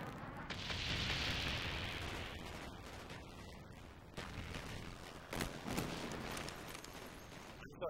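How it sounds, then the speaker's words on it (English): Bomb strike in Call of Duty Black Ops, a loud rumbling blast swelling early and then decaying, followed by further scattered booms and distant gunfire cracks, fairly close and dense. "Friendly bomb strike on the way."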